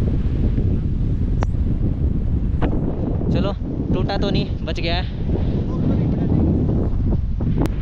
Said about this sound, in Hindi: हवा सच में बहुत तेज चल रही है, बहुत ज़्यादा तेज हवा है।